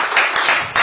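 Church congregation at a Spanish-language sermon clapping in praise, a brief burst of loud, close applause with rhythmic clustered claps.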